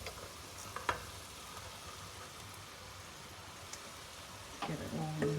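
Minced meat crackles and sizzles quietly in a frying pan for a Bolognese sauce, with occasional scraping clicks from stirring and a louder burst of frying toward the end.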